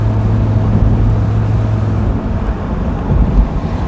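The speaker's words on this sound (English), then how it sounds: "I thought I was over turbo diesels, to be honest, but this engine has changed my mind." A Ssangyong Rodius turbo diesel engine runs from inside the car as a steady low rumble and hum, heard alone with no talk and a slight drop in drone partway through.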